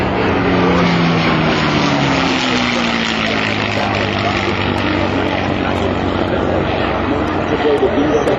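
B-17 bomber propeller engines flying at the 2006 Jones Beach airshow: a loud, steady, rumbling drone with shifting engine tones throughout, while a narrator talks over it.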